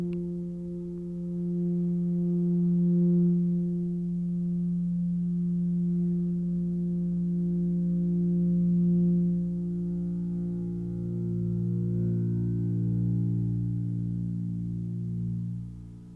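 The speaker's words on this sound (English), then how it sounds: "if you're real careful about where you use the EBow along the length of the string, you can actually sustain harmonics" EBow held over a bass guitar string, sustaining pure, steady harmonic tones that ring smoothly for over fifteen seconds, shifting pitch slightly near the end, with no voices.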